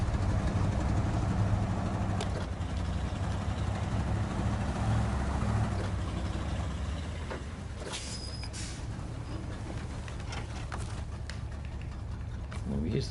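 A Paystar truck in SnowRunner rolls up and stops, its low engine rumble idling steadily before settling down near the end, with a voice talking over it.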